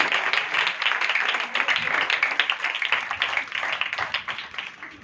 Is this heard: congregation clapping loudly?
yes